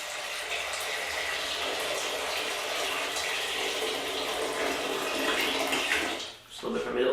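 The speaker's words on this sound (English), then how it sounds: "So I'm putting some water into our" Water runs from a kitchen tap into a small pan for spaghetti tacos, a steady, close splashing rush that stops briefly near the end and then resumes.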